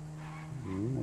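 Car driving in Grand Theft Auto V, a steady engine drone that rises in pitch as the car accelerates near the end, with no voices.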